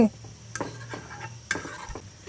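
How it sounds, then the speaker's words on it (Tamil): Spoon stirring through thick egg curry in a pan, soft scraping with a few sharp clinks against the metal and a faint sizzle underneath. "குழம்பு மிக்சர் நல்லா கலக்கி விட்டுக்கோங்க"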